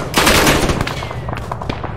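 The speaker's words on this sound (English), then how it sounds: "Why do I hear gunshots behind me?" Rapid rifle and machine-gun fire in a World War II video game battle at Kasserine Pass, a loud burst of overlapping shots followed by scattered sharper cracks, close and dense.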